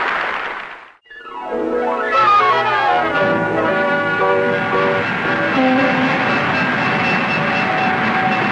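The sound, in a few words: train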